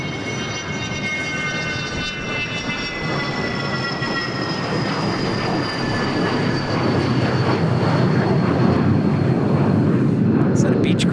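A Beechcraft aircraft at Dallas Love Field gives a steady, loud engine roar with high whining tones that slowly fall in pitch, swelling slightly toward the end, with voices talking over it.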